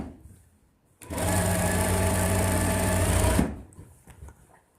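A sewing machine runs a single continuous burst of fast stitching on a ladies suit hem, close and steady for a little over two seconds, with quiet handling before and after.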